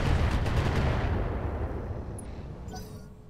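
Cluster weapons fire in Roguetech, a BattleTech game: a loud, rumbling barrage of overlapping blasts that booms up front and slowly fades into a long rolling tail, with no talk.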